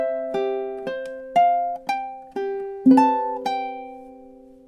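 A ukulele plucks measures 9 and 10 of a gentle lullaby, about eight soft notes and chords at a slow, even pace, each ringing and decaying, close and quiet.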